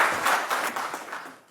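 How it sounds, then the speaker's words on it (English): Keynote audience applauding at a business tech talk, steady broadband clapping that fades toward the end, moderately loud and without speech. "So let's give him a big round of applause."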